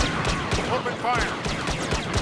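Dense gunfire from a Star Wars Battlefront battle, played on Xbox One, crackles in rapid overlapping bursts with sci-fi blaster tones throughout, while a voice speaks over the shooting.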